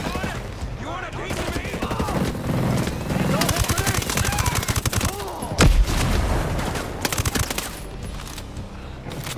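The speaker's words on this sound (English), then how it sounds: "I'm gonna try and do some suppressing fire" Suppressing gunfire in the Ghost Recon Breakpoint video game rattles in rapid automatic bursts, loud and close, with a heavier blast midway and voices talking over the shooting.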